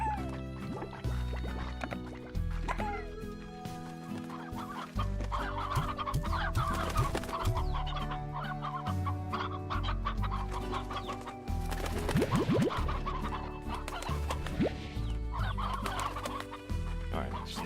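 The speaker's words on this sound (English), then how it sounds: "Alright, some chicks there." Chicks and hens cluck in the Slime Rancher video game, with repeated clucks and chirps over about eighteen seconds, set against a busy game soundtrack of tones and effects.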